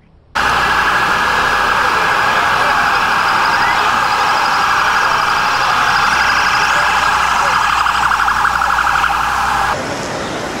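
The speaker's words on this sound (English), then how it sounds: "Lots of sirens from all different directions" Loud, sustained wailing sirens from emergency vehicles coming from different directions at National Airport, steady and overlapping, dominating the scene with a low engine hum beneath.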